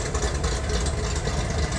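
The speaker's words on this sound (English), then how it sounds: "what does the idle sound like? There you go." A modified 6th-generation Camaro engine with aftermarket heads and cam, running E85 with the exhaust closed, idles steadily with a deep, rumbling low-end burble, loud and close, with no other sounds.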